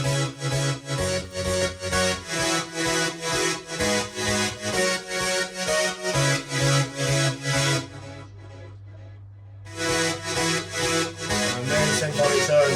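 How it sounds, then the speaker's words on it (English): A synthesizer plays a pulsing, rhythmic chordal pattern, breaks into a sustained low drone for a moment, then the pulsing resumes, loud and full. "What I'll do is I'll put the main synth in with it."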